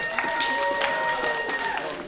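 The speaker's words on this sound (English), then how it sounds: "thank you for clapping" Audience at an open mic comedy show at Anime Midwest 2023 applauding, a steady wash of clapping with some crowd noise, moderately loud and continuous, with a tonal hum running underneath.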